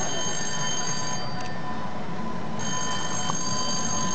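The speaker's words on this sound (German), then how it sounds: "Telefon, geh mal dran." A telephone rings continuously, a steady electronic bell-like trill that sounds close and fairly loud, with no one speaking over it.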